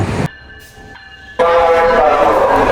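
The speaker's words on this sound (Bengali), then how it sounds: "তো ট্রেন চলে আসছে, যেটাই আমার যাওয়ার কথা।" A train arriving at a station sounds a clear, sustained horn blast, then a loud, close, rushing roar of the passing carriages that continues steadily to the end.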